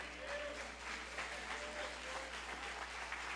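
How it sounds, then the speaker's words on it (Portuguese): Church congregation clapping steadily during a Sunday service, a dense patter of many hands throughout, moderately faint in a reverberant hall with a low steady hum underneath. "aplaudam o nome do Senhor"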